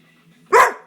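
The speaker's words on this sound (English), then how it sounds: "Is that why you're barking?" A single short, loud bark from a dog named Jack, close by, following a moment of near silence.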